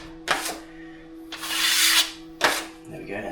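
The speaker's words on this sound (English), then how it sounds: "get a smaller blade if you like, angle it like this, smoothen that edge" A small drywall blade scrapes over a plaster edge in three short close strokes, with a longer smoothing pass in the middle.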